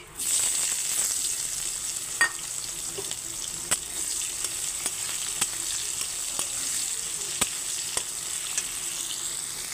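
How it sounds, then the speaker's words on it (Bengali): Mustard-seed tempering and chopped onion frying in hot oil for a ridge gourd and fish curry, giving a steady close sizzle with scattered sharp crackles and pops throughout. "তেল গরম হয়ে গেছে, এখন আমি রাঁধুনি ফোড়ন দিয়ে দিচ্ছি। আর দিয়ে দিচ্ছি পেঁয়াজ কুচি।"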